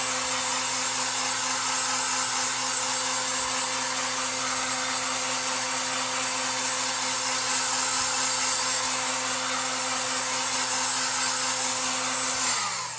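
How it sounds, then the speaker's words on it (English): A heat gun blowing hot air at close range, a steady loud whirring hiss with a constant motor hum that runs unbroken and cuts off right at the end. "So we're going to put our heat gun to that"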